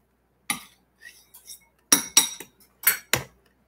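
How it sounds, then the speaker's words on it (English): A utensil clinks and knocks against a dish while mashing a Mexican stuffed potato, producing several short, close taps in irregular bursts with silence between, and no talking. "I'm just gonna smash my potato a little bit so that this good stuff will mix"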